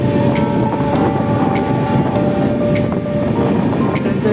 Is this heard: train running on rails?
yes